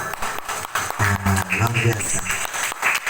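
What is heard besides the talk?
audience clapping hands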